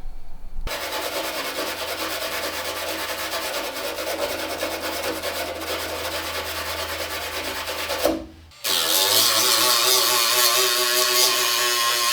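Rust being sanded and scraped off the body of a BMW E28 project car, a loud continuous abrasive rubbing that breaks briefly near the end, then resumes harsher and brighter.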